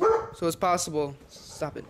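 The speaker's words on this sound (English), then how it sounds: "Sorry about the dog barking and everything." A dog barks a few times in short bursts close by, mixed in with someone talking over it.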